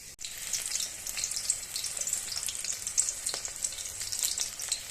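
Panch phoron spices frying in hot oil on a gas stove, a steady close crackling sizzle with dense popping throughout and no talking.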